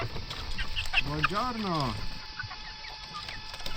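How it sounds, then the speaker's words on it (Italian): Fowl calls from a flock of about fifty hungry young hens, three months old, on a mountain smallholding: a run of rising and falling clucks and squawks near the middle, with a man's greeting spoken over the birds. "usciranno una flotta di 50 galline affamate"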